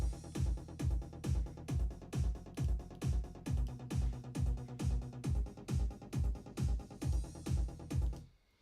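A punchy synthesized EDM rolling bass line rolls in a steady, repeating rhythm of deep hits, loud and close, cutting off abruptly at the end.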